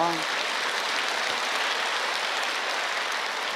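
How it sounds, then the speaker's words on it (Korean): A church congregation claps in a steady, dense burst of applause that fills the room evenly from start to finish. "이럴 땐 박수 많이 치는 거예요"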